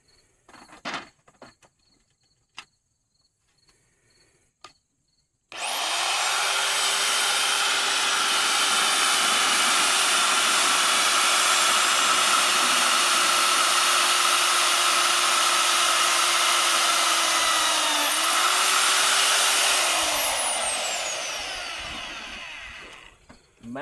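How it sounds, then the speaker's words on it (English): After a few faint clicks, a magnetic drill whirs into steel plate with a loud, steady, high motor whine that dips briefly near the end, then winds down. "take our mag drill, drill some holes in it"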